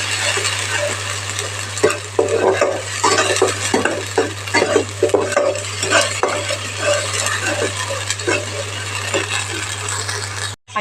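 Chickpea sundal being stirred in a frying pan for a roadside-style snack, a steady loud sizzle with frequent scraping and clattering of the spoon against the metal pan, continuous throughout with a constant low hum underneath.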